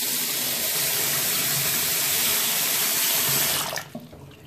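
A hotel bathroom sink tap runs with a steady, close rush of water for several seconds, then is shut off, leaving a quiet tail of drips and trickle.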